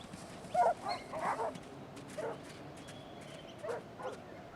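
Dogs or dingoes bark in the Australian wild: a handful of short, sharp barks and yips come in scattered bursts at moderate distance over a quiet background, with no one talking.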